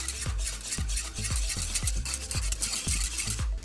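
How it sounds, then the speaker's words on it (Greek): A spoon stirs a flour-thickened sauce in a pot for stuffed cabbage rolls, making a quick, even run of soft scraping strokes, close and fairly quiet, with no one talking. "Ανακατεύουμε πολύ καλά, μέχρι που να σπάσουν όλα τα γρουμπαλάκια που έχει το αλεύρι"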